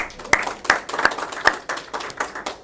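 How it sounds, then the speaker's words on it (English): Sparse, uneven clapping from a small audience welcoming trial lawyer F. Lee Bailey, a handful of distinct claps spread across a couple of seconds rather than a full roaring ovation. "You didn't expect a round of applause, did you?"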